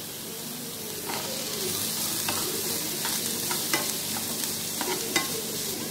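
Beetroot and carrot stir-frying in hot oil, a steady close sizzle broken by scattered scraping stirs of a spatula across the pan, with no talking.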